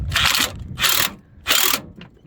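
A hand ratchet tightens a bolt on a car, giving three quick bursts of clicking pawl at an even rhythm plus a short fourth, close and crisp with no talk.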